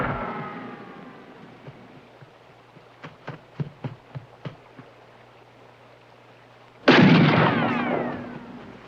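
Gunfire in a 1973 western film: a rapid run of about seven sharp shots rings out at mid distance, followed by a louder, sustained burst with ringing echoes, and no talking.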